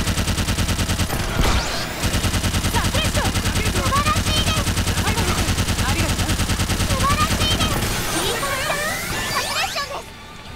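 Rapid, continuous Gatling gun fire shooting blaze bullets in Sword Art Online: Fatal Bullet, a loud dense rattle of shots with whooshing effects, easing briefly near the end.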